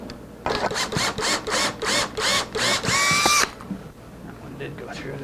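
A power drill bores a hole into an acoustic guitar neck joint fixture in a shop, pulsing in about eight quick close bursts of whining motor, then winding down into quiet background noise.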